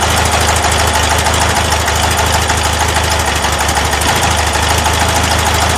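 A Porsche 912 engine fitted with Dellorto DRLA carburetors runs steadily at idle, a loud, continuous mechanical drone with a faint rattle, close up and with no talk.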